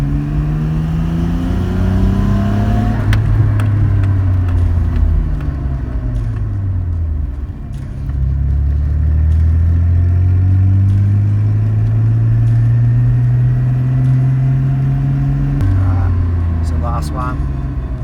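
A Nissan Skyline GTR drives on a quiet road at around 50 to 60 km/h, its engine a loud, close rumble that rises and falls, with a dip as it slows and brakes. A person talks over it throughout.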